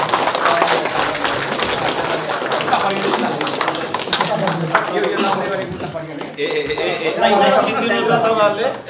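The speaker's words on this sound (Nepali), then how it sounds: "सबैले यतिखेर ताली गर्न भएको खुसी थिए" At a Federal Limbuwan Party Nepal event, the audience claps in a loud, sustained round of applause mixed with crowd chatter and voices talking throughout.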